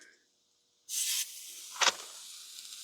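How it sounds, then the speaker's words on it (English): Smash burgers sear on a Ninja Sizzle Pro XL grill heated to 500 degrees, a sudden loud hiss as the patties hit the hot plate, then a sharper burst of sizzle before it settles into a steady, softer crackle. "They're already sizzling."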